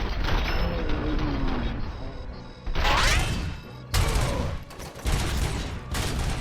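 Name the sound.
grenade explosions in RoboCop: Rogue City video game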